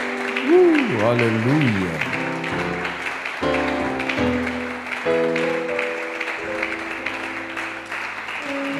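A church congregation applauds and cheers during worship, dense clapping running under a singing or chanting voice and other voices throughout.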